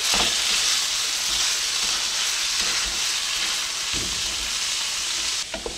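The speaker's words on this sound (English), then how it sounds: "I'm go ahead now and start breaking up my ground beef" Ground beef sizzles steadily in a skillet for hamburger gravy, with a constant loud frying hiss and occasional soft scraping as the meat is broken up, and no talk.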